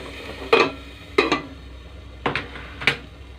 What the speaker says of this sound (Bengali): চাপাটা খুলে আবার দেখে নেব, একটু নেড়ে নিচ্ছি